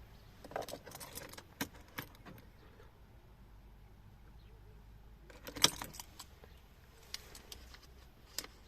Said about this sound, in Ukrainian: Вийняв ключі